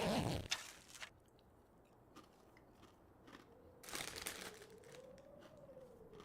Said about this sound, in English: Got my spicy sweet chili Dorito chips too,